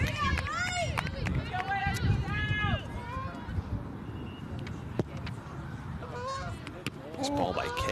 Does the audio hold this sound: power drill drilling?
no